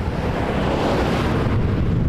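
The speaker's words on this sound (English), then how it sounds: "It's windy today." Strong wind buffets the microphone at Toronto Pearson airport, a steady, loud roar of rushing air with no talk.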